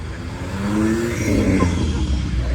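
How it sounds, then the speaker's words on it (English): A car engine drones loudly and steadily, with the pitch climbing as it revs up midway and holding a strong, throaty roar. "Car sounds amazing."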